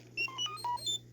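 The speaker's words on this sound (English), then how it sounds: "You will know it is time to turn the page when you hear R2-D2 beep like this." R2-D2 from a Star Wars read-along storybook chirps a quick electronic page-turn signal: a rapid string of warbling, whistling beeps lasting about a second, fairly faint over a low steady hum.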